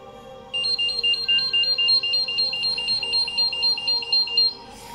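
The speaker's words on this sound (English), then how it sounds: "So you turn it on and it'll alarm." A four-gas detector for a mine, also covering hydrogen sulfide, ammonia and sulfur dioxide, gives a rapid, shrill, pulsing electronic beep when switched on, loud and close, sounding continuously for several seconds.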